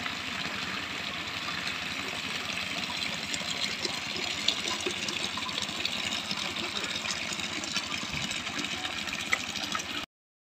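Water gushes steadily from a motor-driven pump, a constant rushing splash over a low motor hum. It stays close and even, then cuts off abruptly at the very end.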